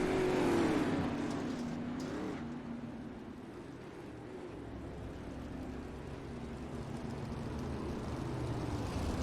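Sprint cars with 410 engines race around a dirt oval, their engines a moderately distant, swelling and fading drone as the pack goes by, with no voices over it.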